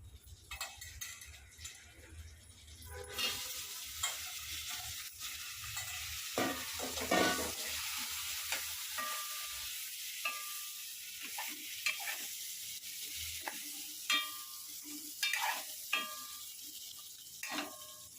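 Moringa drumsticks being stirred and fried in hot oil with cumin, mustard seeds and masala in a pan, with steady sizzling and repeated scraping stirs close by, and no talking.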